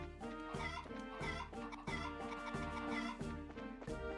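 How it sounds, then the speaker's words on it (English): Scared chickens clucking in the video game Trails in the Sky, a rapid, agitated run of clucks and squawks with rhythmic pulses, loud and close over faint background music. "I appreciate scaring the chickens."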